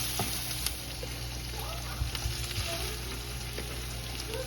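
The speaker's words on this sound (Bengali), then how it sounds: "আমি এখানে বাঁধাকপি ভাজিটা বসিয়ে দিয়েছিলাম।" Cabbage frying in a pan gives a steady, close sizzle and crackle, with occasional small pops and scrapes from stirring throughout.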